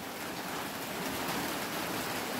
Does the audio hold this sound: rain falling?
yes